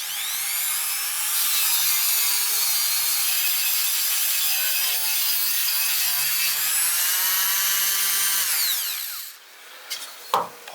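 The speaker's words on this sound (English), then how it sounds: "Now you have to use something a little bit more abrasive and then slowly polish it back in." An abrasive pad buffs a wooden piece on an upcycling project, a steady whirring rub like a power sander that runs loud and unbroken for several seconds, then stops with a couple of knocks.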